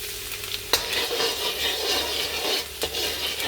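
Garlic sizzling in hot oil in a pan, a dense steady crackling hiss that stays constant throughout, with a couple of sharp knocks from a utensil against the pan, close up and with no one speaking.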